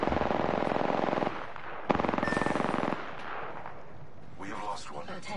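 Rapid automatic gunfire bursts from an Apex Legends match, loud and close with a steady rattling rhythm, pausing briefly before a second sharp burst, then fading into scattered softer game sounds.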